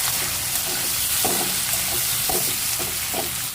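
Onion, bay leaf and whole cumin frying in hot oil give a loud, continuous close sizzle, with periodic scraping strokes of a spoon stirring them around the pan.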